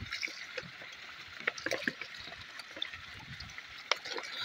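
Water gushing quickly out of a shaken bottle poured into a farm sprayer, a steady watery rush with scattered drips and splashes, close and fairly quiet.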